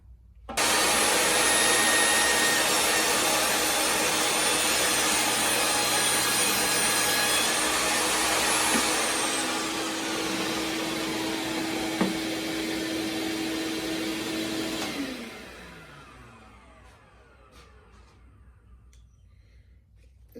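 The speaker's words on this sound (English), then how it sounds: "let's see how it does with ripping with the Freud blade" A table saw with a Freud blade rips finished maple plywood along the grain, a loud steady whine and cutting roar held for about fifteen seconds before the blade spins down and fades to a quiet hum.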